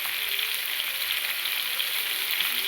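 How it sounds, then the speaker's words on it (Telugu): Curry leaves sizzle in hot oil in a pan of frying fish, a steady dense crackle and hiss that stays loud and even throughout with no pauses. "ఇప్పుడు మనకి మన కరివేపాకు ఏదైతే ఉందో వేసుకుందాం."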